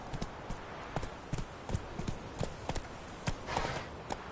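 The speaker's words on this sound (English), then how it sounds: "Whoa there, Roach." Horse hooves clip-clop at a steady walking pace in The Witcher 3, a continuous close series of hoof strikes on hard ground with faint background ambience and no talk.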